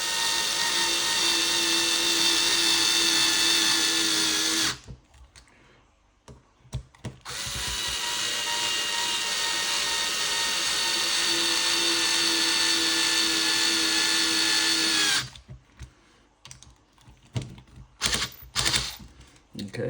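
A power driver screws screws into a DR10M RC car build in two long, steady, whining runs, close and loud, separated and followed by clicks and handling noises.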